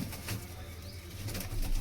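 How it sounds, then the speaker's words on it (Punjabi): Faint, low pigeon cooing murmurs in a quiet, echoey space, with a soft rustle like wings shifting. "ਅੰਦਰੀ ਲੈ ਆਈ ਕਬੂਤਰ ਆਪਣਾ ਬੈਠਾ ਆ"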